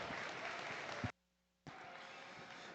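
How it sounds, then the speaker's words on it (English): Audience at a junior breeding sheep showmanship class at a state fair gives a round of applause, steady dense clapping broken by a brief silent gap before resuming. "Let's give them a really big round of applause"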